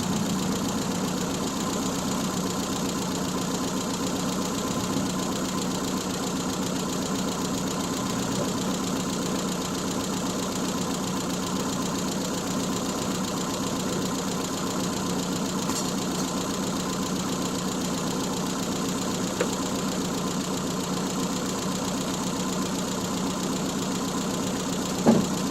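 A Triumph Spitfire engine, started after sitting for 12 years, idles with a steady, even drone and a faint knocking rhythm, running alone and close by for the whole stretch with no talking.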